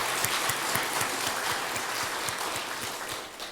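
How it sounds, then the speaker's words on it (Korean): Church congregation applauding the choir during a Sunday worship service, a steady wash of many hands clapping at moderate distance that fills the room and tapers off slightly at the end. "박수 한번 하겠습니다"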